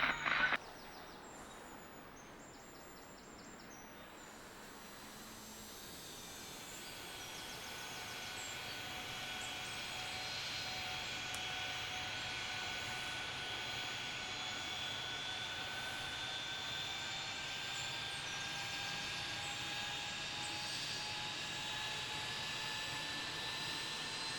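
An airliner takes off in the airport simulator game Tower Simulator 3 at Salt Lake City, a steady jet engine roar building and holding for a long stretch, with a faint whine on top.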